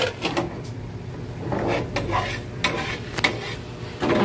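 A spoon stirring a pot of broth, with soft scraping and knocking against the pot at an irregular rhythm, close and moderately loud over a low simmering background.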